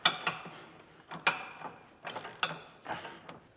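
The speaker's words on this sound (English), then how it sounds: "Grab your torque wrench and start to torquing" Torque wrench tightening bolts on a leaf spring suspension kit install, a series of sharp ratcheting clicks in short irregular bursts, close and distinct with quiet gaps between them.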